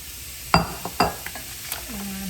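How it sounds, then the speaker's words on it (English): Soy protein and half an onion sauteing together in a pan, with a few sharp clinks of a utensil against the pan over a soft sizzle, ending in a brief low hum. "we're going to saute the soy protein."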